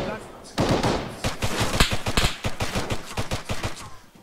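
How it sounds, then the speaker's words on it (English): Gunfire in Arma 3 rings out in rapid, loud, close bursts of sharp shots that follow one another almost continuously for several seconds. "Stop fucking shooting!"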